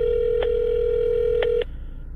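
A telephone call being placed: a steady dial or ringback tone with short tonal blips over it, cutting off abruptly near the end, with no voices.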